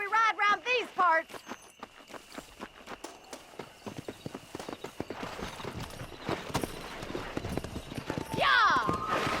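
Horse hooves clip-clopping at a quick riding pace in the video game Red Dead Redemption, a brisk rhythmic clatter with a horse whinnying near the end and game voices talking at the start.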